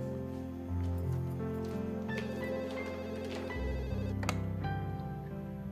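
A telephone rings steadily in a domestic drama scene, moderately loud over a bed of soft background music, with no talking during the ring.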